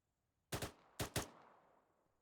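Two quick pairs of gunshots in the video game Arma 3, each pair a sharp double crack with a short echoing tail, fairly distant and separated by a brief pause.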